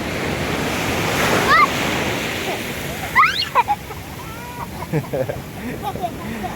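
Choppy sea waves wash and break at a beach under steady wind noise, with a few short voices and calls heard above the surf.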